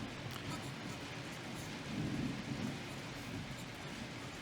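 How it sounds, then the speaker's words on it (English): Steady rain pours down outdoors while a low rumble of thunder swells briefly in the middle, distant and muffled beneath the hiss of the downpour. "that was a bit of thunder there as well"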